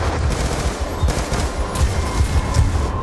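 Sustained automatic gunfire and scattered shots fill a Call of Duty Black Ops 2 Strike Force mission, a continuous rattling battle din with some louder nearby bursts and no talk.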